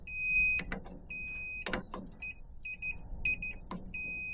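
A continuity tester beeps on the heater switch of a 1950s Lansing Bagnall Model A electric truck, sounding several short high-pitched tones in an irregular pattern among faint handling clicks, close and clear with no talking.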